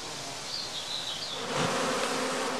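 Honey bees hum in a steady, dense buzz around a straw skep, a continuous insect drone that grows slightly fuller partway through, with no voices.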